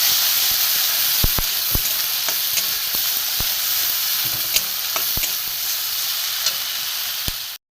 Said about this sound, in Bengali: লঙ্কার গুঁড়ো, ধনে গুঁড়ো, জিরে গুঁড়ো, দিয়ে আমি এটাকে কষবো।